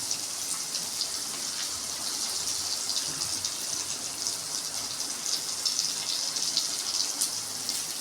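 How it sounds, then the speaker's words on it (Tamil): Green beans being rinsed in water for a Tamil beans poriyal, a steady hiss of running and splashing water, constant and moderately loud with no pauses and no talking. "தண்ணியிலேருந்து நல்லா அலசிக்கோங்க."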